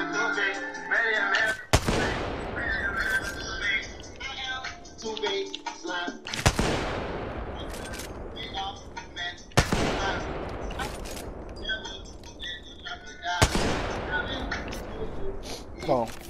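Several sharp, loud gunshots crack out with long decaying tails in a video game firefight, spaced a few seconds apart over steady game noise, while players talk throughout.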